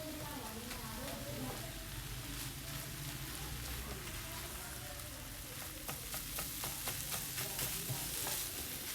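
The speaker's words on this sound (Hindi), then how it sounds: "चिकन की अब हम भुनाई कर लेंगे 5 से 6 मिनट के लिए, ताकि इसका फ्लेवर ज़्यादा इनहेंस हो जाए।" Chicken sautéing in a pan over low to medium flame for a chicken cheese samosa filling, giving a steady, close sizzle with intermittent scraping and stirring strokes, a background voice faintly audible underneath.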